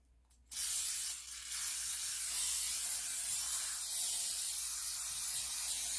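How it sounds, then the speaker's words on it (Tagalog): A spray bottle hisses a steady, continuous mist onto a baking pan before bread buns go on it, close and loud for several seconds after a brief quiet start. "So, mag-i-spray po tayo dito."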